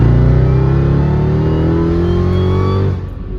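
A Mercedes E55 AMG V8, running without its supercharger belt, revs loudly and close up, its engine note climbing steadily before dropping off sharply near the end.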